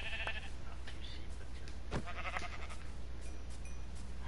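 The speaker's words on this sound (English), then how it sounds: "No, I found three sheep" Sheep in Minecraft bleat a few times against a steady low background hum, with short nasal calls spaced across the moment and no talking.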